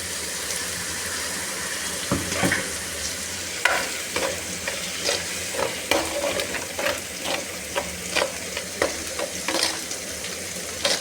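A paste of ground coriander and curry leaves frying with softened tomatoes in a pan: a strong, continuous sizzle under a series of quick, close scraping stirs, fairly loud, with no voices.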